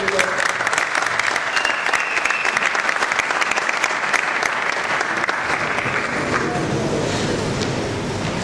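A graduation audience at an architecture institute applauds steadily and loudly, dense clapping from many hands continuing for several seconds and thinning slightly toward the end.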